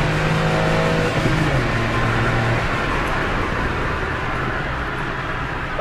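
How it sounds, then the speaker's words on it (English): A 1-litre Toyota Aygo accelerates hard in second gear, heard from inside the car as a loud, steady engine drone with rising tones early on and constant road and wind roar. "Because Gareth's never seen an aygo accelerate this quick."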